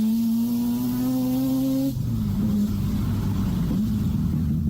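Mazda RX-7 with a bridgeport rotary engine running on mild boost, a loud close idle with a buzzy, pulsing rasp that drops and settles into a rougher, burbling tone midway.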